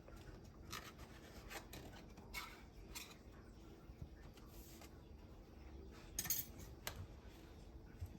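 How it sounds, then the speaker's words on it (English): A knife is run around the edge of a cooled banana nut bread pan, giving soft, steady scraping and rubbing with a few brighter metallic clinks near the end, close up and quiet with no talk. "We're gonna run the back of the knife all the way around."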